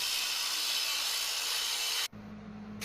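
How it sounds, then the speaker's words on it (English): Steel bar stock being cut off for a hardy shank, giving a steady, loud, continuous grinding-saw noise that stops suddenly, leaving a low hum behind. "Here you can see me cutting off about 3 inches of my bar stock to work as the hardy shank."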